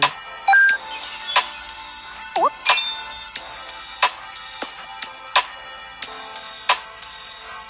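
A phone rings while calling a friend in the video game Life is a Game: bright, chiming electronic tones repeat in a steady pattern, clear and up close with no talking.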